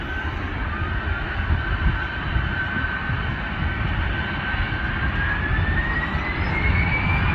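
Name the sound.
Ryanair jet on final approach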